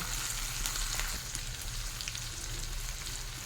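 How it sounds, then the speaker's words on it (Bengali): Prawns fry with onion and garlic over a low flame, producing a soft, even crackling sizzle over a faint low hum, quiet and steady throughout. "লো ফ্লেমে চিংড়ি মাছটাও পেঁয়াজ রসুনের সঙ্গে ভাজতে থাকবো"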